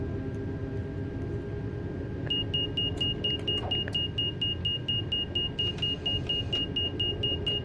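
Cab of a TGV high-speed train accelerating on the LGV Méditerranée, with a steady low rumble and motor hum overlaid by a regular, repeating high beeping tone.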